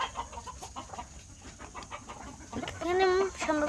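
Chickens cluck close by on a rooftop where eggs are being collected, a few soft cackles rising to louder clucking near the end over low background noise.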